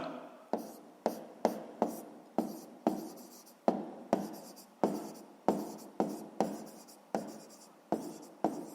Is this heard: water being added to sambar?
no